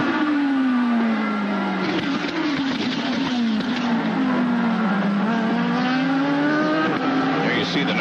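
IndyCar race cars at the 2010 Sonoma Grand Prix, engines whining loudly and steadily with repeated rising and falling pitch sweeps as they power through corners, joined by crowd and track noise, with commentators talking over them.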